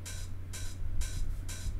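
An unequalized open hi-hat sample for a bootleg repeats four times at an even pace, each hit a bright hissing splash with a short decay, sitting over a faint low rumble.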